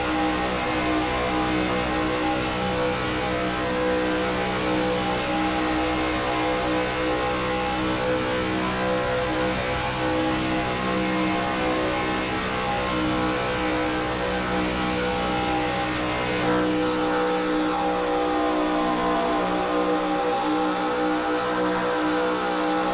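IROC race cars roar around the Daytona oval, a sustained, loud engine drone with shifting pitch as the cars pass, steady and continuous throughout.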